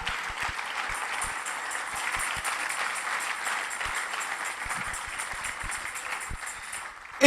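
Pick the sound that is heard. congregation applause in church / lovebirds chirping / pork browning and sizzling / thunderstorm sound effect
congregation applause in church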